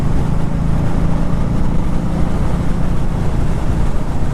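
A 2018 Indian Scout Bobber ABS motorcycle ridden at slow speed, giving a steady, loud, unbroken engine rumble mixed with wind noise, with no voices.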